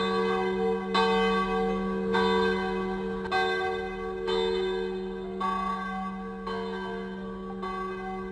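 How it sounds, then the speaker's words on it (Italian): Church bells ringing at Villa Santina beside a street nativity scene, strokes falling about once a second with long resonant hum between them, steady and fairly close, with no talking. "siamo giunti proprio mentre suonano le campane, ve le faccio ascoltare"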